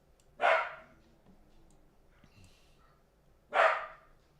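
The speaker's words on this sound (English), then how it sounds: "I don't know what Maxie's barking at" Two sharp dog barks, spaced about three seconds apart, moderately close with a quiet background between them.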